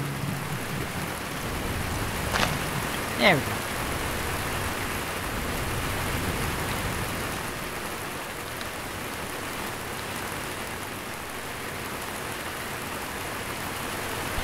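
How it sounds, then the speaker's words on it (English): Rainfall in Minecraft, a steady, even hiss of falling rain that continues without a break, with a brief voice near the start. "The rain's starting"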